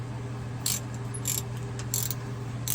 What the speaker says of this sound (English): Take our bolt, stick it back in here, and we'll sock that down too.